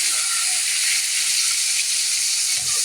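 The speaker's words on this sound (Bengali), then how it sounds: "পেঁয়াজটা আমি ভালো করে ভেজে নেব।" Chopped onions fry in hot oil with bay leaf, cardamom and cinnamon, giving a loud, steady, dense sizzle that carries on unbroken throughout with no voices.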